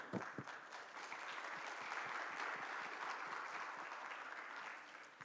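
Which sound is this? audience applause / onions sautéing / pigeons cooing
audience applause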